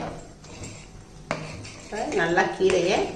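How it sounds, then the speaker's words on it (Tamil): A spoon scrapes and clinks against a pot as moringa leaf kanji is mixed, with a voice speaking over the stirring toward the end. "இப்போ இதை வந்து நல்லா மிக்ஸ் பண்ணிக்கிடுவோம்."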